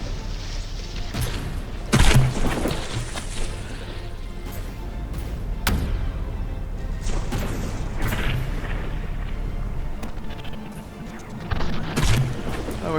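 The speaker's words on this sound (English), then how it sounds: "It's definitely getting its superstructure stripped away by the bombardment of shells there" Battleships trade shell bombardment in the video game From The Depths, with heavy booms and crashing impacts landing in irregular bursts over a constant rumbling battle din.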